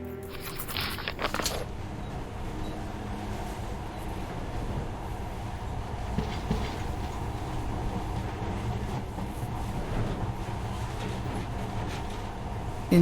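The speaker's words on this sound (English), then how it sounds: "this monorail seems magic, doesn't it?" Monorail train ride in the game Metro Last Light Redux, a steady low rumble of rolling rail travel that fills the whole stretch, opening with a brief brighter mechanical burst before settling into a continuous drone.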